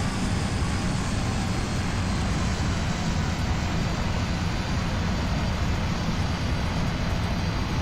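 A Cessna C208 Caravan turboprop in X-Plane 11 throttles up while taxiing, a steady, loud, broadband engine roar and whine that holds constant throughout.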